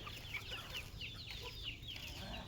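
A flock of farm chickens perched on a shed roof makes faint, quick chirping clucks in a loose series, low in level and some distance away, with steady outdoor ambience beneath.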